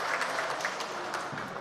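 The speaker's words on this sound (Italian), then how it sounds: "Applausi intanto per Gaetano Miloro," Applause rises from spectators at a Serie A raffa bocce match, a steady, fairly faint patter of many hands sustained throughout without speech.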